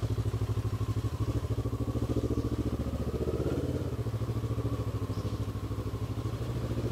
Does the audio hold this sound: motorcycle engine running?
yes